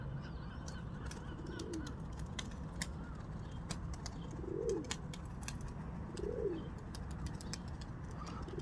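A young female tumbler pigeon gives soft, low coos, three or four short rolling calls spaced a few seconds apart, faint and close over quiet background hiss with small clicks.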